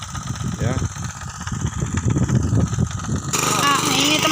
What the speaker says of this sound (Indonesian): Itu traktor kita akan action